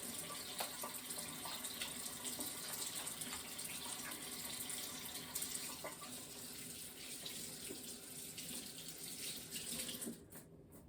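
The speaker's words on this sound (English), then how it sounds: "Wash my hands." Tap water runs steadily into a sink while hands are washed beneath it, a continuous close splashing that stops just before the end.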